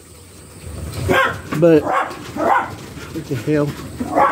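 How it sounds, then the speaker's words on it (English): Dogs bark in short bursts nearby, overlapping with a voice talking. "I apologize for the dogs going insane."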